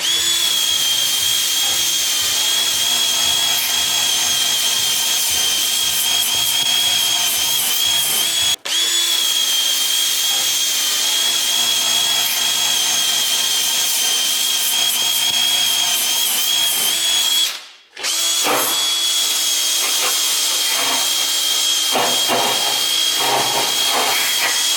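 A power tool buffing rust off the underside of a car, a loud continuous high-pitched whirring grind that briefly cuts out twice before resuming, with no talk.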